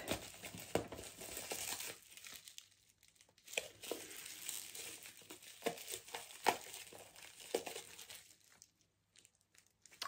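Crinkling and tearing of the packaging around a 30 ml Kenzo perfume as it is unwrapped, close and moderately quiet, in irregular rustling bursts with brief pauses and no talking.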